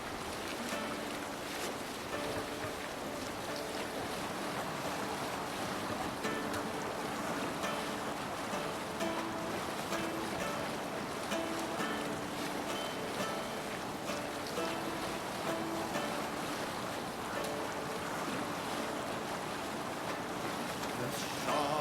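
A sailing ship glides over ocean waves in Assassin's Creed Valhalla, with a steady wash of surf and wind rushing evenly throughout, alongside faint tonal game music.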